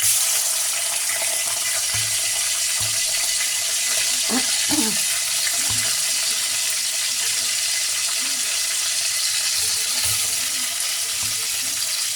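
Chicken gizzards being rinsed with water, salt and vinegar, a steady close wash of running water with faint handling clatter throughout, no one speaking.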